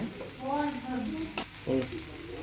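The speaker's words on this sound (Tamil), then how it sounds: "நல்லா கிளறி விட்டுக்கோங்க." Egg noodles stirred in a hot pan give short scraping strokes over a soft sizzle, along with a few squeaky, tonal rubbing sounds and one sharp clink, all close and fairly quiet.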